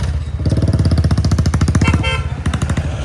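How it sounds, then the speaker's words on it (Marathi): A motorcycle fitted with a loud aftermarket silencer rumbles close by in a fast, throbbing exhaust pulse, briefly easing off before the beat picks up again, loud and without voices. "सायलेन्सर भारी त्याचा आवाज"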